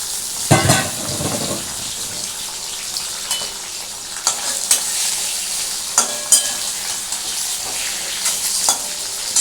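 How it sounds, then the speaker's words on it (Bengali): Basa fish pieces, tail sections included, fry in hot oil over a raised gas flame, giving a loud, steady sizzle broken by sharp clinks and scrapes of a utensil against the pan. "জাস্ট আমি একটু গ্যাসটাকে বাড়িয়ে দিচ্ছি, দিয়ে একটু মাছটাকে ভাজতে দিচ্ছি।"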